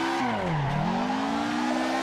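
A racing car engine in a video game revs steadily while drifting, its droning pitch dipping briefly and then climbing back, continuous and close for about two seconds.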